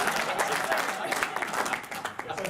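A tech conference audience claps in a round of applause, brisk close clapping with a lively, uneven texture and some crowd noise mixed in.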